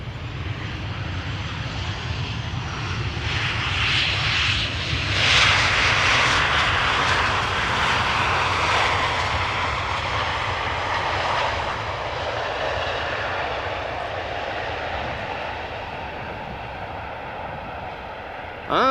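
Boeing 777 jet airliner engines at Amsterdam Schiphol Airport roar past from a distance, swelling to a loud broadband rush around the middle and then fading slowly over about nineteen seconds, with no voices.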